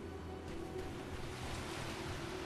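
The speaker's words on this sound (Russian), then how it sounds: "Волны. Такого я в Скайриме тоже не видел." Ocean waves in Skyrim Dragonborn, a steady wash of surf rolling under a low wind-like hiss with a faint constant tone, distant and even throughout, no voices.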